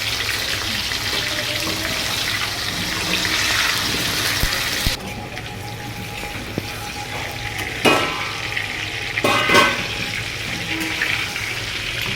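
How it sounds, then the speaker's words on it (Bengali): Potatoes sizzle in hot oil with a steady crackle, interrupted by a few clanks and scraping stirs in the pan. "এবারে আলুগুলো ভেজে নিচ্ছি"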